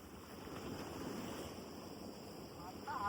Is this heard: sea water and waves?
yes